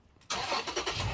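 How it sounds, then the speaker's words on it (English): A car engine cranks and catches after a short quiet moment, then settles into a steady running rumble, close and fairly loud, with no talk over it. "We're going to go ahead and start the car and let it warm up."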